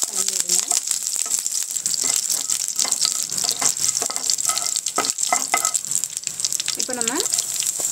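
A sprig of curry leaves and two dried red chilies fry in hot oil, loud constant crackling sizzle with repeated stirring scrapes and clinks of a spoon against the pan.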